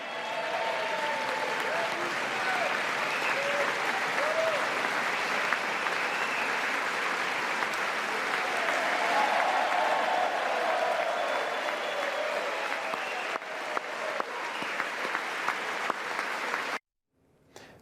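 Sustained applause fills a legislative gallery during a political address honouring a 13-year-old boy, a dense steady clatter of many hands with faint crowd murmur, running loud and unbroken before cutting off abruptly near the end.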